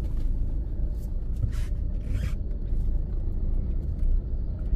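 A learner driver's car creeps along slowly, its steady low engine and road rumble continuous and close throughout, with a few faint higher hisses passing over it and no talking.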